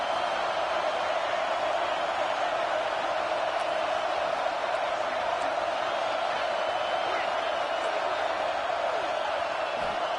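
College football stadium crowd roaring steadily through a goal-line stand by the defense, a dense, unbroken wall of cheering and noise that holds for the whole stretch.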